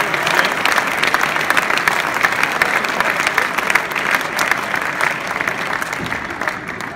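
Loud, continuous applause from a banquet crowd at a sports legends honors night, dense and even throughout, with faint cheering mixed into the clapping.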